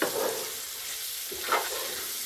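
Pork being stirred in a cooking pot for an Indian-Jamaican fusion dish, with a brief faint scrape at the start and another in the middle over a low, even sizzle.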